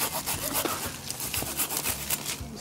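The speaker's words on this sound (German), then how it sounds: "Wenn man genau sägen möchte, einfach einmal grob absägen." A broken mini hand saw cuts roughly through a plum tree branch in quick, rasping back-and-forth strokes, close and fairly quiet, with no voices.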